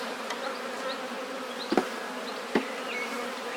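Honey bees buzz in a dense, steady drone during a shook swarm, close around the hive, with a couple of brief knocks or bumps breaking through.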